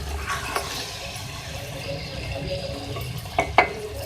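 Chicken and cauliflower with garam masala are stirred in a pan, giving a soft steady sizzle under faint scraping, with a couple of sharper utensil clinks near the end and no talk.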